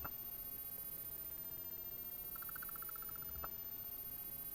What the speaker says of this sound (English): Did y'all hear those crickets?